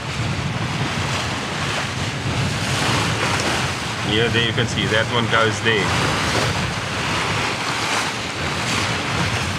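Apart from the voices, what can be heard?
ocean waves and swell around sailing catamaran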